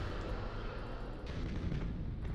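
Torpedoes launched from a warship strike enemy vessels in the space battle game BattleFleet Gothic Armada, a steady low rumbling wash of distant blasts and booming impacts running throughout, with no talk.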